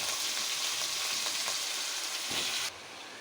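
Eggplant pieces sizzle and fry in masala paste in a cooking pot, a steady loud hiss with a few stirring scrapes, cutting off abruptly near the end.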